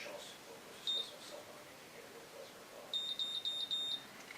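A Babyliss Curl Secret hair curler gives a single high electronic beep, then after a pause a quick run of four short identical beeps, close and clear over a quiet room.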